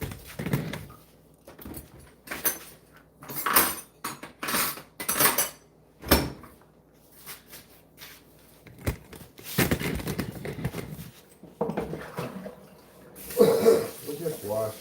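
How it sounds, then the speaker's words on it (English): Silverware and dishes are loaded into a dishwasher in a home kitchen, with repeated clinks and clatters in irregular bursts, fairly close, with some talk mixed in. "Put the silverware in the dishwasher."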